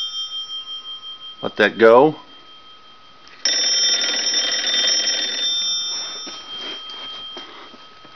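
A mechanical telephone bell on a wooden wall phone with a touchtone dialpad rings in a steady rattling burst for a couple of seconds, after a brief spoken phrase and some clicking handling noises.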